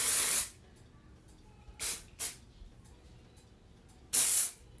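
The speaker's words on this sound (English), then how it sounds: "I'm spraying on the hair about an inch away." Short bursts of hair product sprayed onto sectioned hair from about an inch away, four hissy puffs of varying length separated by quiet gaps.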